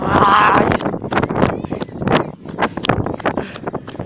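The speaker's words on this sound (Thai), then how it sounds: "ลมพัดอาจจะไม่ได้ยินเสียงนะ" Wind buffets a microphone outdoors during exercise, a loud, gusty rumble that surges and dips in irregular bursts from start to finish.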